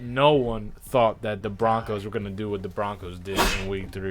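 A sudden, sharp sneeze bursts out late in a lively sports podcast conversation about NFL football, briefly cutting through the steady talk of the hosts.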